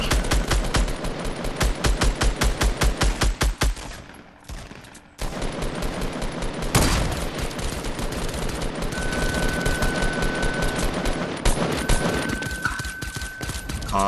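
Fortnite gunfire: rapid, loud automatic bursts hammer away for several seconds, break briefly, then resume as continued shooting with sharp single blasts, no talking.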